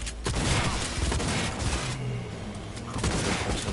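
Sustained automatic gunfire in the video game Cyberpunk 2077, dense rapid bursts of shots with booming impacts filling the whole stretch, loud and close.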